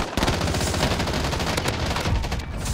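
Rapid bursts of gunfire from a shooter video game, loud and continuous, with dense repeated shots packed across the whole stretch and no talk over them.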